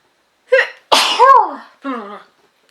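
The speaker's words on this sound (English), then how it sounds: "I'm going to sneeze." A person lets out a loud, sharp sneeze after a short intake, followed by a brief vocal sound, close to the microphone.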